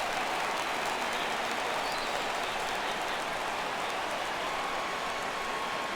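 Stadium crowd noise in the baseball video game MLB The Show 17 fills the clip as a loud, steady, roaring wash, unbroken from start to finish with no clear individual voices.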